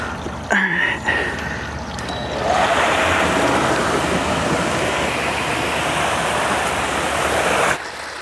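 Water gushing steadily from a leaking sand filter pump setup by an above-ground pool, a continuous broadband rush that sets in loudly after a brief quiet start and runs close and unbroken before cutting off near the end.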